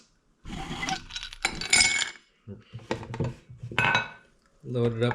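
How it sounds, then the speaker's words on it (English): Ice cubes clatter and clink into a drinking glass in several sharp bursts, bright and close, with short pauses between the handfuls. "Let's put some ice"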